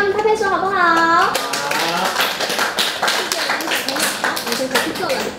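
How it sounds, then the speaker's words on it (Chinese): A group of children claps in a classroom after a classmate's song, rapid uneven clapping following an adult's sing-song voice, with children's voices mixed in. "那我们给他们拍拍手好不好？"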